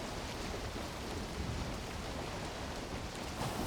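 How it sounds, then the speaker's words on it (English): Rain falls in a Valheim game world at sea during a voyage, a dense, even hiss of rainfall that stays constant and fairly quiet throughout, with no speech. "And it's raining."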